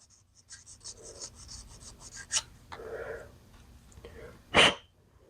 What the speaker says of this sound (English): What we're going to have to do though is just sand this